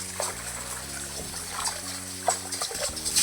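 Dirty water poured off freshly washed spinach splashes and trickles steadily, close by, over a faint constant background hum, with no talking.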